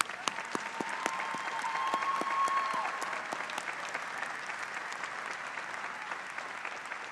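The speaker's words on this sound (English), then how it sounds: "let's give them another round of applause" Sustained applause from a seated audience at a 2024 honors convocation ceremony for the honorees, steady broadband clapping with a few sharper individual claps standing out, holding fairly even before easing slightly toward the end.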